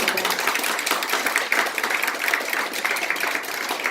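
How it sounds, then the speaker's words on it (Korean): Dense, steady applause from a crowd at a religious debate forum as guests are introduced, a continuous wash of many hands clapping at even loudness for several seconds. "뜨거운 박수 부탁드립니다"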